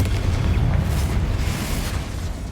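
Confringo blasting spell from Hogwarts Legacy erupting in a loud, sustained boom with a rumbling low-end roar that stays steady for about two seconds before easing slightly.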